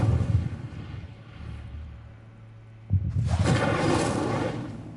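An Incendio fire spell is cast in Hogwarts Legacy, starting with a loud rumbling burst that fades, then a sharp crack and a bright roaring whoosh of flame that slowly dies away, with no talking.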